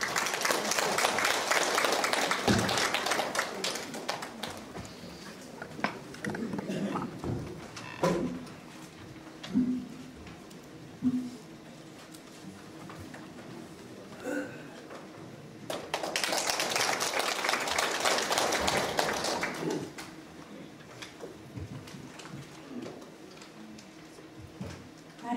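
Applause welcoming a speaker at a filial-piety forum opening ceremony rises in two loud bursts, the first about two seconds long and the second about four, with scattered claps and quieter room noise between them.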